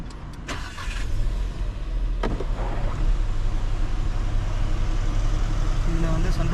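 Engine of a VW Taigun or Skoda Kushaq SUV starting, a few sharp clicks and a crank, then a steady low idle hum close by.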